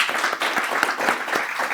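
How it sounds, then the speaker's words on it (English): An audience at a World War 2 history presentation claps for veterans, a brief and fairly close burst of applause with individual claps audible within it. "yeah, we'll do a round of applause."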